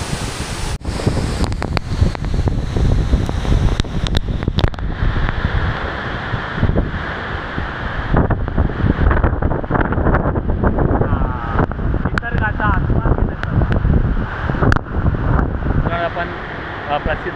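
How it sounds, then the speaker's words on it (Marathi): The Ranpat waterfall in Ratnagiri, Konkan, roars as a loud, continuous broadband rush of falling water heard close up, with gusty wind buffeting the microphone. "प्रसिद्ध असा रत्नागिरी जिल्ह्यातील जो रानपाट धबधबा आहे, धबधबा इथं आपण आलेलो आहोत"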